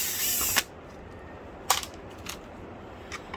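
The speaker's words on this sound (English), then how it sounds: "Let's get that screw out." A small screw is worked loose from a decoration flashlight projector during a teardown, giving a brief close buzzing burst of a driver at the start and then a few faint clicks and scrapes.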